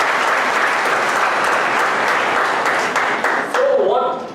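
A university hall audience bursts into loud, sustained applause, a dense wash of clapping that carries on for several seconds before thinning, with a brief tonal sound near the end.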